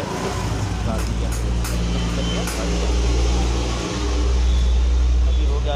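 A TVS Jupiter scooter running with its battery wire disconnected; a steady, loud idling engine hum close by that swells slightly near the end.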